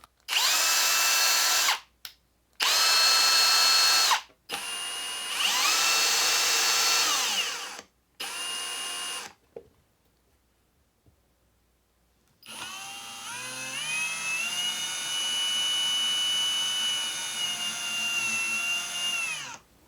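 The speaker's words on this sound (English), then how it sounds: "There it is, the Milwaukee M-18 2604 cordless hammer drill driver." A Milwaukee M18 2604 cordless hammer drill driver runs in high gear in short, loud bursts, its whine ramping up and down between triggers, then a long sustained run after a brief pause.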